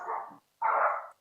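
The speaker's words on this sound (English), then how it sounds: "excuse my dogs, by the way" Two short, loud barks from dogs, heard close by and separated by a brief silence.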